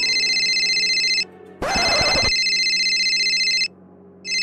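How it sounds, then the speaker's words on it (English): A phone ringtone trills in loud, steady tonal bursts, broken by short pauses and a brief burst of broadband noise partway through. "Whoever has that ringing sound, stop it."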